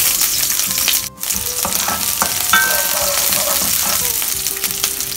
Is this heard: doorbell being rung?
no